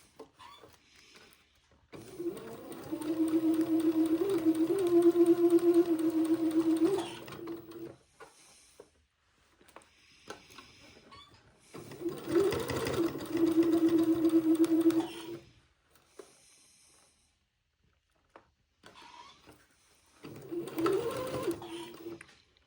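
Sewing machine stitching fabric for a diaper shirt, running in three bursts of steady rapid whirring as it goes forward and back to tack a seam, with quiet pauses between.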